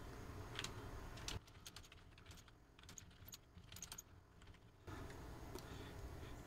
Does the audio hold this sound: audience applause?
no